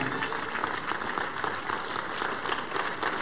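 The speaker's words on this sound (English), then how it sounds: "Give the Lord the biggest clap of praise" A church congregation claps loudly in praise during a revival service, a dense, steady wall of applause filling the room with no break.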